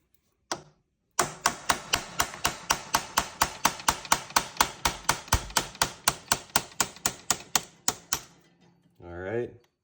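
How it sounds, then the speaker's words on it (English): Rapid, evenly spaced sharp metallic hammer strikes on the security bolts of a car's ignition lock, about thirty blows in steady rhythm, loud and close, ending with a brief voice. "Let's get a bigger hammer."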